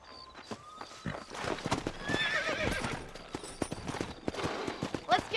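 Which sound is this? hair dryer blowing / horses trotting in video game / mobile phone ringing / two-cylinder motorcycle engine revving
horses trotting in video game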